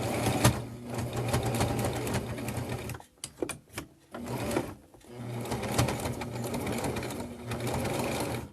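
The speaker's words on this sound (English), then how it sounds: "Okay, so I'm going to sew over it. And now I'm going to back up to reinforce it." Sewing machine stitching a small fabric mini wallet, a rapid close mechanical chatter that pauses briefly in the middle with a few clicks, then resumes as the stitching backs up.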